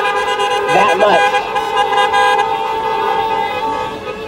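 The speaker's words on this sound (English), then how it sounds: "Honk it up for Dr. Gazetta Hope Roberts." Car horns toot together at a drive-in graduation, a loud sustained chorus of honks over idling vehicles that lasts the whole clip, with a brief voice rising above them near the start.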